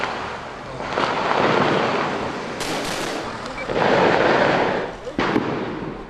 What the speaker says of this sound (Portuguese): Com rojões, tentaram assustar os seguranças. O barulho era intenso na madrugada.